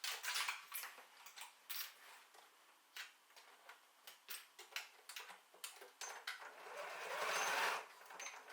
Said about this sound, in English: Sew both the straps onto the main body by sewing across the top,